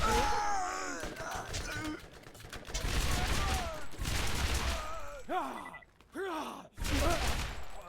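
Rapid bursts of gunfire crackle in the Borderlands video game, dense volleys mixed with shouted game voices and grunts, then briefly pausing before resuming.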